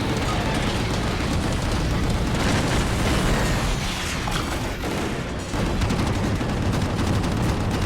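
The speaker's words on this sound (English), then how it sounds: "he lets a giant missile out of his pocket and then roundhouse kicks it at the enemy" A giant missile explodes in Gungrave G.O.R.E, a dense, sustained roar of blasts and gunfire-like bursts filling the whole stretch, loud and continuous with a brief dip near the middle.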